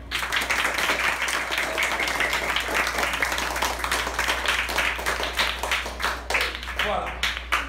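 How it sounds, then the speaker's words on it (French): Children applaud at a school event, a dense, steady burst of crowd clapping that runs throughout, with scattered voices mixed in. "Si vous l'aimez, applaudissez."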